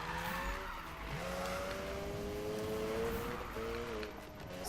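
Tires of a Mazda RX-7 squeal in a sustained drifting skid in the Need for Speed 2015 racing game, wavering pitches sliding over a steady engine roar, loud and continuous.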